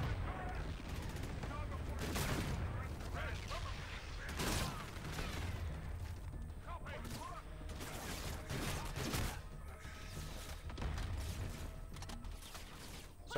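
Rapid bursts of automatic gunfire from Call of Duty: Infinite Warfare crackle in quick succession, with sharp shots and mechanical clatter layered over continuous game noise at moderate level.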